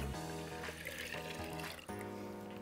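Fresh Cosmic Crisp apple juice, about six cups, poured into a punch bowl, a continuous close trickling and gurgling stream with a brief break near the end before it resumes.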